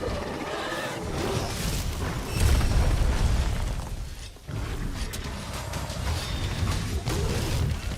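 A loud, deep explosion in a video game booms midway and rumbles for about a second, surrounded by a continuous mix of game noise.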